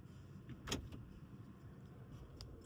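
Electronic automatic park brake of a 2025 Toyota Prius XLE e-AWD hybrid engaging: a single short mechanical click and whir near the middle, faint against a quiet cabin hush, with no talking.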